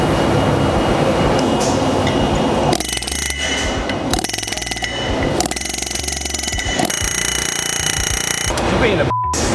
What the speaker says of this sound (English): I use my air hammer, just like this